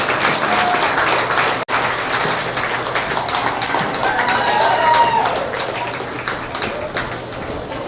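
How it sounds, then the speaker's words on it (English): A crowd at a goat showmanship competition applauds the showmen, loud sustained clapping with scattered voices and a brief dropout, continuing steadily before tapering slightly. "Let's give them a round of applause."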